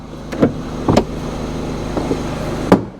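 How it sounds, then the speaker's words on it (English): A salvage-auction van's engine idles with a steady low rumble, broken by a few sharp clunks and knocks nearby. "The engine sounds well."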